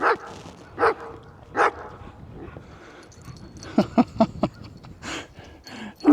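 Outdoors, a small dog barks at bigger dogs in a run of sharp, close yaps, first spaced out, then bunched into a rapid burst, with a few softer whimpers between.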